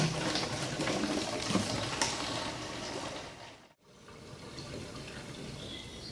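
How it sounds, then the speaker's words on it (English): A gallon of fuel is poured straight into a container during a fuel filter test, making a steady rushing, splashing pour that drops out briefly near the end and then resumes more quietly. "1 gallon of fuel, and we're going to see how long it takes to pour it directly into this container"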